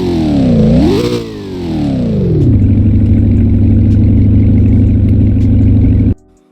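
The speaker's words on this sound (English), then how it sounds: "This car is the Corvette Z06. This car has a amazing startup sound." A Chevrolet Corvette Z06 fires up with a sharp rising roar and a quick rev that dips, then settles into a loud, steady, deep idle before cutting off abruptly, close and alone.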